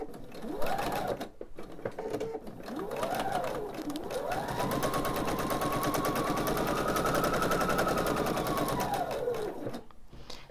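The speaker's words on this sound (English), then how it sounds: "we are going to sew a scant 1/4 inch seam from this point to halfway down the" A sewing machine stitches a scant quarter-inch seam on a quilt block, with a rapid motor whir that rises and falls in short bursts before settling into one long steady run, then stopping.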